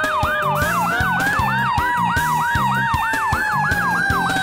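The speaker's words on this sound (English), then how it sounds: "With bright flashing lights and loud sirens, it's exciting to watch a fire truck whiz past." A loud fire truck siren wails in a fast, repeating up-and-down cycle, with a low engine rumble and a rhythmic horn pattern underneath.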